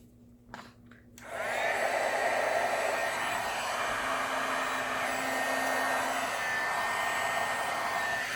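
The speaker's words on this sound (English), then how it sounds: "I like to let my heat gun heat up for a little bit." A heat gun used for card crafting clicks on after a couple of small handling noises, then settles into a steady, close whooshing hum of blowing hot air.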